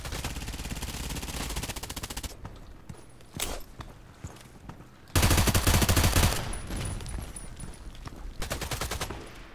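Dense machine gun hip fire in the Contract Wars shooter, long sustained automatic bursts broken by brief pauses, loud and close, with no talk over it.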